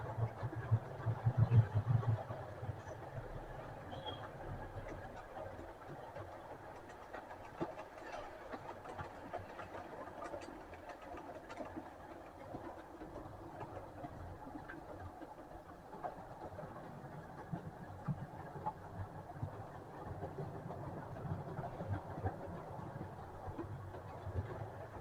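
Model railway trains run along the track with a steady mechanical rumble and faint clickety-clack, an even low hum throughout with brief louder clatter near the start.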